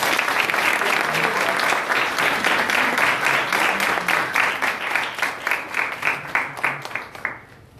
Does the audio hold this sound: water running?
no